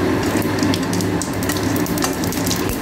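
Cumin seeds and a dry red chilli sizzle in hot oil, a loud, dense crackling hiss that stays steady and close with no voices over it.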